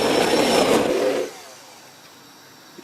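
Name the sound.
whisking batter in a jug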